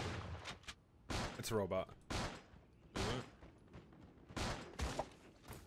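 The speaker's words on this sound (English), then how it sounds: "Oh, I'm getting shot at, dude." Sharp gunshots in the shooter game Fortnite crack out in several separate bursts, interleaved with someone talking excitedly.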